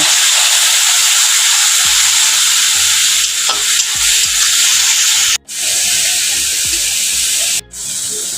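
Tomato paste hitting hot oil in a pan for a fish curry, a steady loud sizzle and frying hiss throughout, with spoon stirring scrapes and two brief cut-outs.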